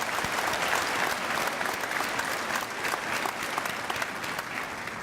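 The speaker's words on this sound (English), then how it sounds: "Let's give him a round of applause for his outstanding work here over the last 7 years." A commencement audience gives a sustained, dense round of applause for a departing chancellor, steady and loud throughout with no talk over it.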